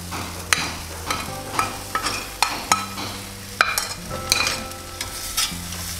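Fried chicken tossed into a pan with coconut, stirred with a metal spoon that scrapes and clinks in repeated strokes over a steady close sizzle.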